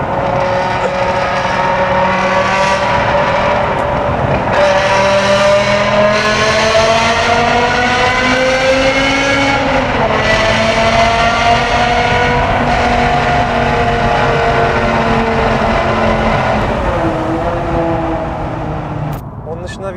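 A loud car engine revs hard through its exhaust, pitch rising and dropping through several pulls, close and continuous with a rough, raspy tone.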